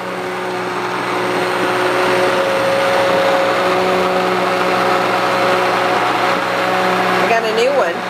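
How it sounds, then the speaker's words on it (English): An immersion blender runs steadily while making marinara sauce, producing a loud, continuous motor whine that holds even throughout, ending with a brief shift near the finish. "I am using my immersion blender."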